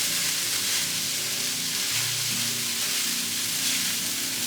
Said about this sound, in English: Also going to add in a little bit of minced garlic at this point, or like a tablespoon or so. Going to give this a good stir.